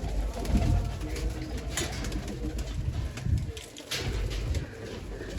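Pigeons coo softly and repeatedly nearby over a low background rumble, with a few brief rustles and no talking.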